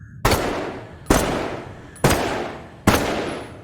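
Four loud, evenly spaced gunshots from a rifle in the video game Blood Trail, each a sharp crack with a ringing decay, fired one after another under no talk.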